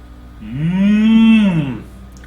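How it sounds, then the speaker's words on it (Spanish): A single cow moos loudly and up close, one long sustained low call that rises and then falls away, standing alone with no speech around it. "La vaca, muy bien."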